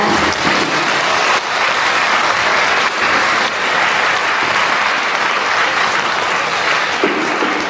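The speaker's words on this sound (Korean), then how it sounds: "오늘 우리를 위해 수고해 주실 황인수 윤한수 신부님을 큰 박수로 맞이해 주시기 바랍니다." Steady, loud applause from an indoor church audience welcoming a priest, a dense continuous clatter of hands that holds at full strength throughout with no talking over it.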